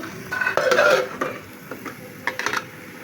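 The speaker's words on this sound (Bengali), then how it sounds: "আমি শাক ভাজি বসিয়ে দিয়েছি, ঢাকনা দিয়ে ঢেকে দেবো শাকটাকে একটু।" Metal clinks and clatters as a pot lid is set over greens frying in a pan, with a few scraping knocks followed by a quieter pause and another short burst of clanks, close by.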